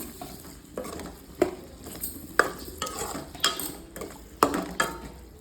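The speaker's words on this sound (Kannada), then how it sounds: "ಕೊತ್ತಂಬರಿ ಸೊಪ್ಪು ಹಾಕ್ಕೊಂಡು ನೀಟಾಗಿ ಇದನ್ನು ಮತ್ತೆ ಮಿಕ್ಸ್ ಮಾಡ್ಕೊಳ್ತೀನಿ ನಾನು" Coriander leaves with tomato, onion and chilli being stirred and fried in a pan, rhythmic scraping strokes of a spatula over a steady soft sizzle.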